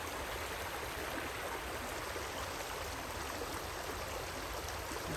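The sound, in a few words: flowing stream water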